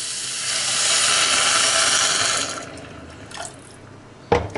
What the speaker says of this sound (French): Il nous faut de l'eau.